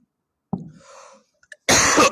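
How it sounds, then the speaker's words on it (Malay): One person coughs nearby, a sharp cough followed by a softer throat-clearing rasp, then a brief pause before a louder, harsh burst of coughing in a quiet room. "Kau kuat batuk ni."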